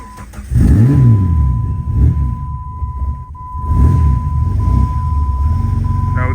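A Jeep WJ engine idling a little rough, with uneven revs rising and falling up close, a steady high tone running alongside, and someone speaking over it.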